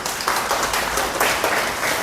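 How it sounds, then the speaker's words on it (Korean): A seminar audience gives a brief round of applause for a senior instructor, close and fairly loud clapping from a modest crowd with uneven bursts. "박수 한번 주세요."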